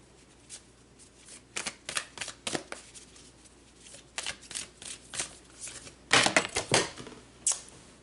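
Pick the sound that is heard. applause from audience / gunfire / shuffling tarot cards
shuffling tarot cards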